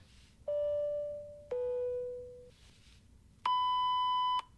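Three electronic beep tones sound one after another: two medium-pitched tones stepping down, a pause, then a higher, longer beep.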